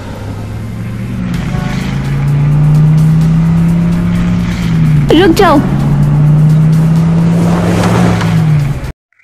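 A cartoon car pulls up with a loud, steady engine drone that swells and holds for several seconds, broken midway by a brief sharp squeal, while a voice speaks briefly over it.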